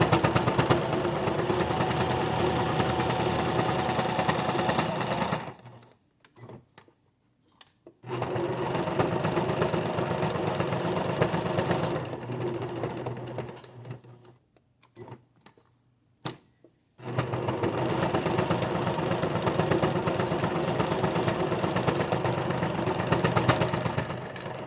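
A sewing machine runs in long steady bursts while top stitching a bag liner for a knitted bag, stopping in the middle with short pauses before a final stretch of continuous stitching.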